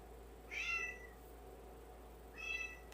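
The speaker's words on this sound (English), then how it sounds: "You hear this, cat?" A house cat meows twice, each call short and clear, close by in a quiet indoor room with a pause between them and no talk.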